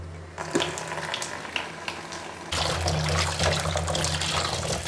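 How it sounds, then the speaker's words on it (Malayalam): Vegetable being washed under a running kitchen tap, water splashing into a sink; the flow is moderate at first, then grows louder and fuller partway through, steady and close. "എന്നിട്ട് കഴുകിയെടുക്കുക"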